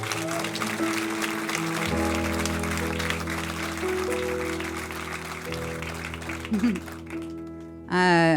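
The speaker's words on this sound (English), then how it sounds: "Let's give him a round of applause." Applause from a storytelling show's audience rises and continues under sustained music tones, with a brief loud vocal sound at the end, the clapping partly masked by the music.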